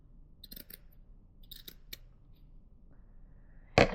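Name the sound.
scissors cutting a fold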